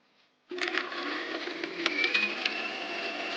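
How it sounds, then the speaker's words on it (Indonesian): A kitchen blender starts abruptly and whirs steadily, blending peanuts and dried shrimp with a little water for sambal ebi kacang, the motor droning on with slight rattling. "Ini kita blender sampai benar-benar halus."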